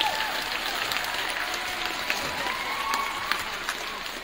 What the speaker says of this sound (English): Yeah, you should applaud for that.